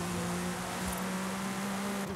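A Lamborghini GTS engine drones in a steady, loud hum from inside the car while driving, holding one even note with no talking.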